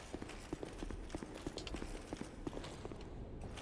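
Hooves of a horse enemy in the Dark Souls II video game: a quick, rhythmic run of clopping hoofbeats, fairly faint, continuing steadily over a muted game background.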